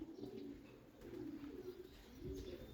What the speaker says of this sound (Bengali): এই কবুতর হইতেছে মুজাফায়ের বাঘা কবুতর